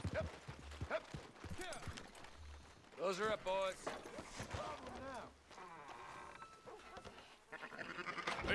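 Sheep bleating in the video game Red Dead Redemption II, several wavering bleats scattered among talking voices and soft hoof clops, at moderate distance and fairly faint.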